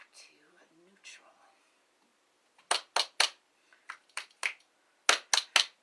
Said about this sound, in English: Do a little clap snap